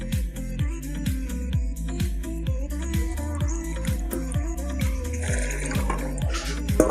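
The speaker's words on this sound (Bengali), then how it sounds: "মা ভালো করে পরিষ্কার জলে ধুয়ে নিচ্ছে" Winter melon pieces are washed in clean water for murabba, with continuous splashing and sloshing and rhythmic swishes as the pieces are moved about, close and steady throughout.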